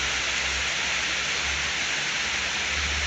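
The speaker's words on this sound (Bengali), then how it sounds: "কি পরিমাণ বৃষ্টি নামছে, বুঝছেন" Heavy rain pours down steadily, a dense, loud, unbroken hiss close by, with a low rumble underneath.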